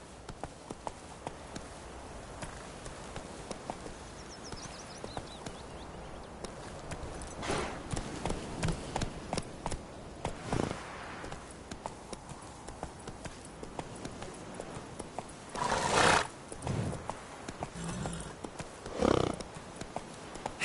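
Roach, a horse in the video game Witcher 3, walks with steady clip-clop hoofbeats and lets out a couple of louder neighs and snorts partway through, the hooves carrying at moderate distance over a low game ambience.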